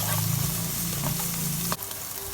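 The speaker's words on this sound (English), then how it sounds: "Then you stir fry the onion for a couple of minutes." Onion stir-frying in a frying pan, a steady close sizzle with a low crackling bed, broken near the end by one sharp clack of a utensil against the pan.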